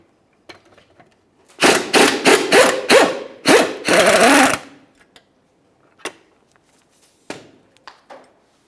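Wrench work on an 18mm bolt and nut at the rear shock mount of a 2002-2009 Chevrolet Trailblazer: a burst of rapid ratcheting clicks and metal rasping for about three seconds, then a few isolated knocks and taps.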